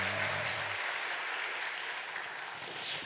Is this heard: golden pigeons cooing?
no